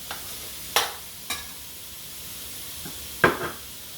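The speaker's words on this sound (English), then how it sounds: "Turn it down even more, because garlic will burn in a flash." Garlic sizzles in a pan as a soft, steady hiss, broken by a few sharp clicks of stirring and clattering against the cookware.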